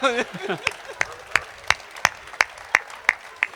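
Slow, sparse claps ring out one after another at a Hindi poetry gathering, a kavi sammelan, following a brief voice at the start.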